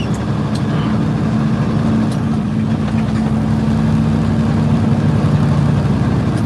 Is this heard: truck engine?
yes